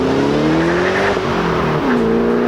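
A 2008 Ford Mustang Shelby GT500's supercharged 5.4 liter V8 revs loud and close, a sustained throaty roar rising in pitch, dipping briefly, then climbing again with no voices over it.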